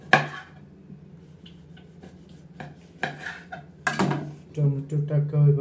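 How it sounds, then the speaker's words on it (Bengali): A knife chops through tomato on a cutting board in a home kitchen, sparse single cuts and then a quicker run of chops, close and fairly quiet, with a voice talking over it. "এবার কেটে নিচ্ছি টমেটো"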